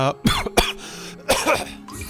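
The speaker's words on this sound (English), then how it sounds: "coughs, apparently" A person coughs a few times in quick bursts, close by, with a short throat-clearing sound between them.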